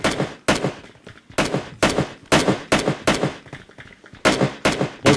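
Rapid bursts of shotgun fire in a video game, about a dozen loud sharp blasts in irregular quick succession, each followed by a short decay, with no talk over them.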